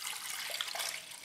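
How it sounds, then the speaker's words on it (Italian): Water poured into a stand mixer bowl fitted with a dough hook, for a salted wholemeal bread dough; a steady, close splashing stream runs alone for about a second before cutting off. "vado a mettere metà acqua"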